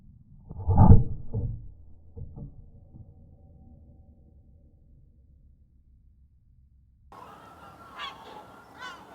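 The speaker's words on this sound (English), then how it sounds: "Yes, croak all you want, but why won't you land?" In a hunting video game, a bird gives a loud honking call up close. Quieter calls follow, then a fainter burst of squawks near the end.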